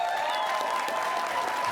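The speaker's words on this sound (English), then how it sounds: "Let's clap lots for our Guest 2 guest" Studio audience at a television panel game show applauds a guest with dense, steady clapping that holds evenly throughout the short stretch.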